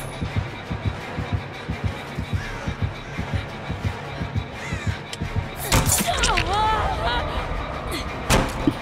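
Killer heartbeat in the video game Dead by Daylight, a steady, rhythmic low thumping that repeats throughout, building in loudness beneath game noise and a brief burst of louder sounds near the end.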